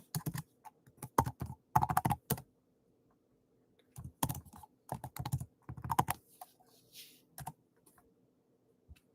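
Bursts of rapid key clicks on a computer keyboard as a password is entered, close and crisp, in uneven clusters separated by short pauses.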